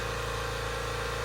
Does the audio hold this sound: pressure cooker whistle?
no